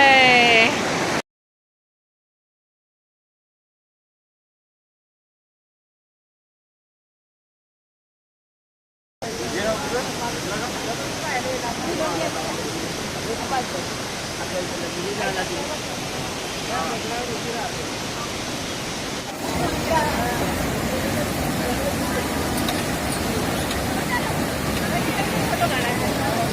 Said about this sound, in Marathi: इतकी खळखळ वाहून राहिली आहे यमुना